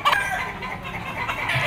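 Gamecock roosters cluck and call at a fighting cock market in Lipa, Batangas, several birds sounding close with short clucks and a brief crow-like call amid market background noise.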